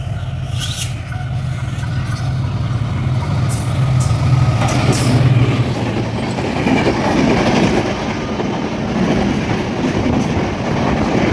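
Chitra Express passenger train running steadily past Ekota Express at a crossing at Lahiri Mohanpur, a continuous loud rumble with faint clickety-clack of wheels on rail throughout.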